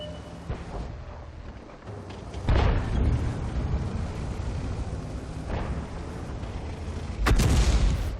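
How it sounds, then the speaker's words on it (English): Deep, booming artillery blasts strike a tank in World of Tanks, two heavy impacts several seconds apart over a steady rumbling engine bed. "You see the artillery took a shot at me"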